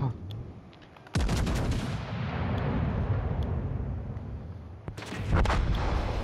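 Gunfire in a video game: a sudden loud blast kicks in after a second and sustains as a dense roar, with a second burst near the end, close and heavy, with no talking over it.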